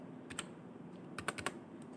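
Typing on a keyboard while entering a withdrawal amount of 500 in an instant loan app: a few soft, separate key taps, then a quick cluster of clicks, faint and close.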